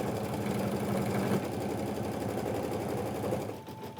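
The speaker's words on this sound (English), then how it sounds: "when I take it back to the machine, the satin stitch will go over all 3 of those edges" A sewing machine running a fast, steady satin stitch over appliqué edges on a quilt, its rapid needle rhythm close and even before the machine slows and stops near the end.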